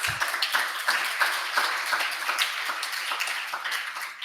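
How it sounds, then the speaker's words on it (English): Audience applause at a side event on empowering young people, a steady patter of many hands clapping throughout, moderately loud and even in rhythm with no talk over it. "let's just give ourselves a round of applause for that."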